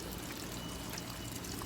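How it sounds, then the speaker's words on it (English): Water drains steadily from a pool sand filter, a continuous close pouring and trickling rush with no break and no voices. "So we're letting this all drain out now."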